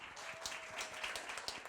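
An audience at a Seoul career-experience results presentation applauds to welcome a presenter, giving quick, dense but fairly faint clapping that continues throughout.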